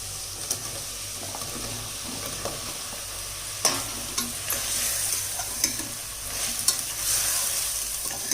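Bottle gourd and tomato sauté in a hot pan, sizzling steadily throughout while a spoon stirs and scrapes with occasional sharper knocks against the metal.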